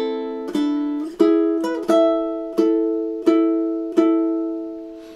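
Plucked ukulele notes from "March of the Toreadors" ring out one after another in a slow, even melody, each pluck clear and close with a short decay.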